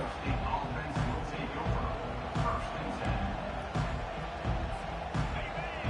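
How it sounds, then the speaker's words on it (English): A dense, roaring crowd fills a college football stadium at an NCAA game just after the opening kickoff return, a steady wash of noise under and between commentator voices. "This crowd trying to show them what it's going to be like all day in this house."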